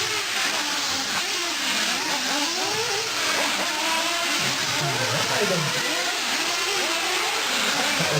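Several 1/8 scale nitro RC buggies whine and buzz around an indoor Hobbyplex race track in Omaha, engines revving and sweeping past in overlapping waves, loud and continuous throughout.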